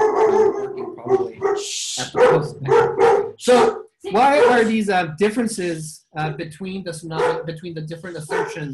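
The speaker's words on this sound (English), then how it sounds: "That's my dog." A dog barks in the background during a scientific plenary session on Earth interfaces, brief and partly masked beneath a speaker's continuous lecturing.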